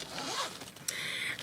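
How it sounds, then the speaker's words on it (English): A zipper is pulled closed along a travel art kit case, a quick close rasping zip with a brief pause and a sharper second pull, heard alone. "This should be zipped up"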